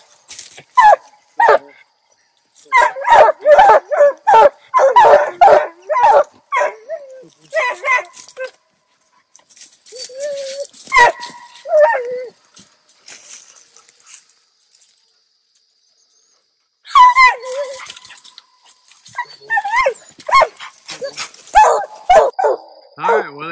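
At night in the woods, coonhounds bark in short repeated bursts at a tree with insects chirring, while someone talks nearby in between and over the dogs.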